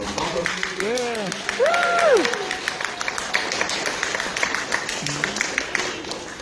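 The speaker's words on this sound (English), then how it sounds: "Another round of applause for Papa." Audience applause at a convention villain panel, sustained crowd clapping with people talking and cheering over it, some vocal whoops rising and falling early on.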